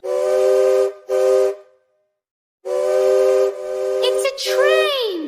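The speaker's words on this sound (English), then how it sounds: "It's a train." A train whistle blows in two short bursts, pauses, then gives a longer blast that ends in falling, sliding tones, loud and close.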